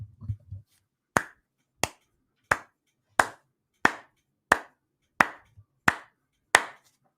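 Nine single sharp claps ring out one at a time at a steady, slow rhythm, about two-thirds of a second apart, each crisp and close in an otherwise quiet room.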